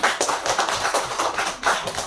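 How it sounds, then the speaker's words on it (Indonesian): A group claps hands in applause for a presenting classroom team, a steady run of overlapping claps lasting the whole moment with no voices over it. "terima kasih untuk kelompok 3, tepuk tangan"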